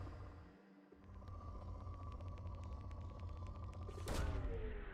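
Probe launching in Mass Effect Legendary Edition, a faint steady series of ticking pulses over a low rumble, capped by a sudden whooshing burst near the end, quiet overall with no talking.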